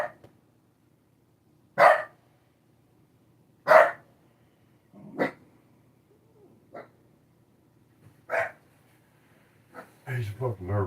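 A dog barks from a back bedroom of a house, a few separate sharp barks spaced several seconds apart with quiet between, ending in a quick cluster of fainter yaps.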